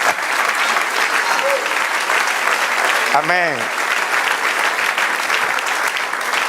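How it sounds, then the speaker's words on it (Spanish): A church congregation at a New York service applauds, a broad wash of clapping with a brief spoken interjection partway through. "Den un aplauso al Señor"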